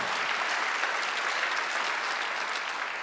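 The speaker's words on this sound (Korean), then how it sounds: "진짜로 믿는 사람 박수 한번 쳐주세요." A church congregation at a Sunday worship service breaks into steady, dense applause, a loud continuous wash of clapping from many hands filling the room without speech.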